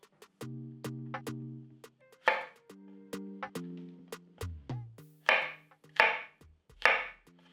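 A knife slices white and cremini mushrooms on a cutting board, making a steady series of soft, close chopping knocks with brief scraping bursts between them, with sustained tones running underneath.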